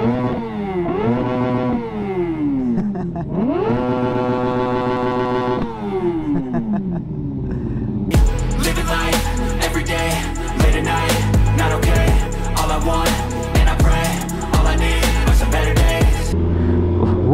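A GSXR sport motorcycle engine revs in repeated rising sweeps, then gives way to a dense, loud roar with clattering mechanical noise, all close and steady.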